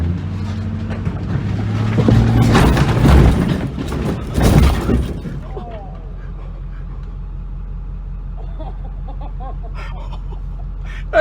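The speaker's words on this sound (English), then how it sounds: "We're taking the F450 over 2 cars." A heavy Ford F450 truck climbs and crushes over two parked cars with loud rumbling, crunching and metallic strain for several seconds, then eases into a steady low engine idle; faint voices murmur near the end.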